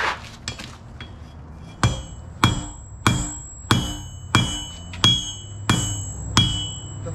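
Steel being hammered on an anvil while forging a throwing axe, with loud, close, ringing metallic blows struck in a steady rhythm roughly every half second to second, alone without talking.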